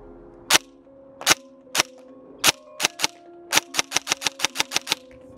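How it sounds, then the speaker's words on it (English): A Lancer Tactical Gen 2 airsoft gun fires at a target. Sharp, close cracks come as spaced single shots, then a quicker run of about a dozen shots near the end, with no talking. "So let's go ahead and take a few shots at the target."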